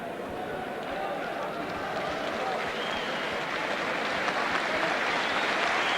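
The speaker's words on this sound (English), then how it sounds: "the sporting King's Hall crowd give a nice hand to the little man Bassa" Boxing crowd at King's Hall applauding the fighter Bassa, a dense, steady wash of clapping and crowd noise that holds for several seconds, with a commentator's voice running over it.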